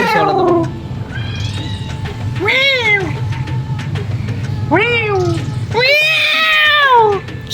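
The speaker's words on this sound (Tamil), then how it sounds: "கேட்டா மியாவ் மியாவ்னு தான் கத்துது." A cat meows repeatedly, several loud drawn-out cries close by, over a steady low background hum.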